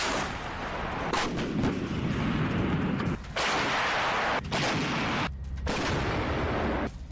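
Artillery cannon fire in the Russia-Ukraine war, a series of heavy booming blasts at irregular intervals with rumbling echoes between them and brief abrupt cuts, no speech.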